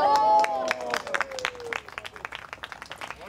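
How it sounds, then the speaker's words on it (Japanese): Children cheer and clap at a baseball clinic at Seiryo High School after a batter hits a home run over the fence, a burst of close, excited crowd noise with a rising whistle-like tone fading into scattered claps and shouts. "見事な柵越えを披露し、子どもたちから歓声が上がっていました。"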